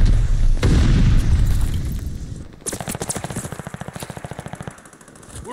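In Call of Duty: Vanguard, a grenade goes off with a heavy nearby boom as the player heads for the church, followed by long, rapid bursts of machine-gun fire in a steady staccato rhythm.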